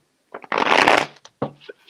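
Large fairy tarot cards are shuffled in a short close burst of riffling and flicking, followed by a few lighter card taps, with no talking.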